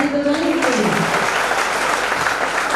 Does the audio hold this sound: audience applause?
yes